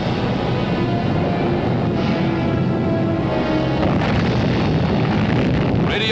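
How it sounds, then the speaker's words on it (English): Footage of an underground atomic bomb test from Operation Teapot in Nevada, a blast of about 1,000 tons of TNT: a continuous loud, rumbling roar with broad noisy turbulence and no clear single onset, sustained throughout. "Nevada prepare for an underground atomic explosion, the first ever photographed"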